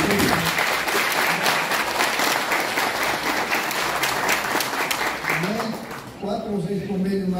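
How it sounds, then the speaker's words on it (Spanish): Loud, sustained applause from an audience at a regional government event with a mayor and governor in Tocache province, Peru, with voices mixed in and a speaker's voice emerging near the end as the clapping thins. "También se merece un aplauso"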